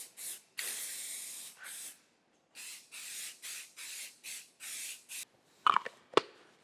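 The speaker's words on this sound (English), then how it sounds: "it's a flat black. And we'll just go ahead and give it all a good paint coating" Spray can applying flat black paint to a Champion Midway No. 71 forge makes a series of close, loud hissing bursts, some short and some longer, with brief gaps between them, then two sharp clicks at the end.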